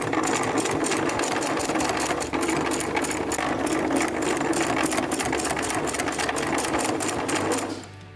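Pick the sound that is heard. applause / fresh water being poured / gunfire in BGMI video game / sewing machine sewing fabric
sewing machine sewing fabric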